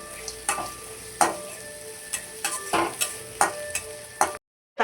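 Onion and curry leaves fry in hot oil for a tempering: a crackling sizzle punctuated by repeated spoon scrapes and taps against the pan, ending abruptly in silence.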